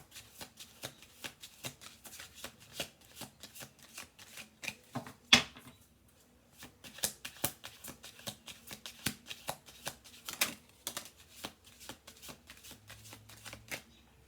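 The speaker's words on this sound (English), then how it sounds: "I'm going to do 2 more shuffle throughs on this." Cards are shuffled over and over in rapid riffling bursts of crisp clicks, close by, with a brief pause partway through.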